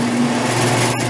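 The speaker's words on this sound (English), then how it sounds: "we want to bring the handle down and we want to press the dispensing button" Frozen yogurt machine dispensing with the handle pulled down to rinse the auger, a steady motor hum with a constant low tone, close and even throughout.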